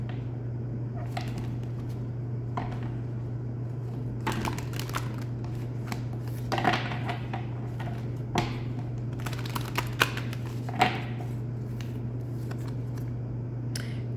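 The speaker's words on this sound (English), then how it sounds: "Just shuffle these cards a little bit." Soft, intermittent riffling and flicking of shuffled cards in short bursts over a steady low electrical hum, with no talking.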